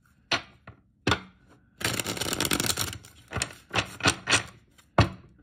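Tarot cards being shuffled by hand: soft taps and slaps, then a longer riffling burst, followed by several quick taps, close and quiet.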